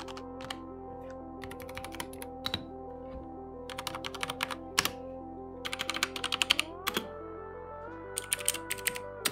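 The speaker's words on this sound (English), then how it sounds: "Mechanical keyboards can vary when it comes to sound, look, and feel" Rapid clicky keystrokes come in bursts on a mechanical keyboard, close up, over a quiet steady background tone.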